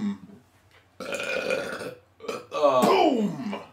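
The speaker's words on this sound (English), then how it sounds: "I have a burp that's just stuck, and it won't come out." A man's loud burps during a gaming session, two long croaking belches separated by a short gap, the second rising and falling in pitch, close and prominent.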